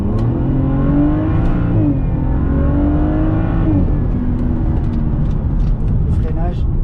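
BMW Z4 35i roadster with a dual-clutch gearbox and 306 hp accelerating hard, its engine note rising in steps as gears shift, loud and continuous beneath someone talking throughout.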